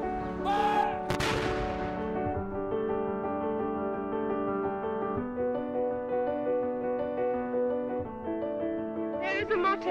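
A ceremonial artillery gun salute booms once, sharp and loud, at the Trooping the Colour Queen's Official Birthday Parade in 2015, followed by sustained military band music.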